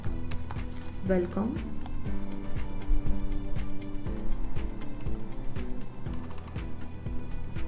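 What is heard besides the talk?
typing on a computer keyboard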